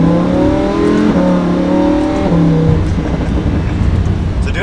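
A Lamborghini Huracan LP 610-4 with a naturally aspirated V10 accelerates gently, its engine note climbing through stepped gear changes in a close, steady in-cabin roar.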